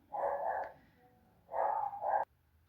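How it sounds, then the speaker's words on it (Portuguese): Dogs barking in a home setting, two separate bursts of several barks each with a pause between, moderately loud and heard alone without talk. "Os cachorros vão latir aí, vou ter que pausar."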